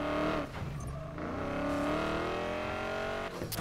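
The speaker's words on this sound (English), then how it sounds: "So we're gonna go ahead and drive it down out of here." A Ford Mustang in the video game Need for Speed Payback drives off with a steady engine drone, its pitch rising slowly as it accelerates, loud and close.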